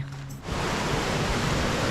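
Than Sadet waterfall roars as a steady, dense wash of falling water close by, rising in after a brief quieter moment at the start and holding loud and unbroken with no voices.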